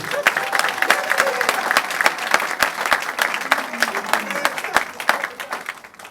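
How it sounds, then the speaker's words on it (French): An audience at a Congolese cultural ceremony applauds continuously, a dense patter of many hands with a few sharper claps standing out, holding steady before tapering slightly at the end. "Applaudissez s'il vous plaît"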